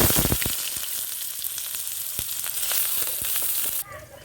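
Tempering seeds and chopped onion hit hot oil for a spicy tilapia fish pittu, giving a loud, continuous close sizzle with scattered sharp crackles and pops that quiets near the end.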